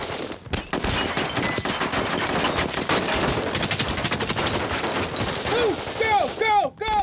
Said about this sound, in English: the French Special Forces is evacuating the passengers through a hail of gunfire